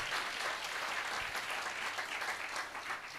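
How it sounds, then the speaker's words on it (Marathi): A church congregation applauds loudly for Jesus, a dense, steady wash of clapping that holds at full strength for the whole stretch. "एक जोरदार टाळ्या वाजल का येशूसाठी?"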